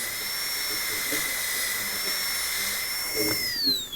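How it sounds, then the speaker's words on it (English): A high-pitched dental drill whines steadily while a bur cuts into a tooth margin, holding a constant tone before dropping in pitch as it winds down, with quiet speech underneath. "We're going to nip out a little bit at a time using the end of the burr."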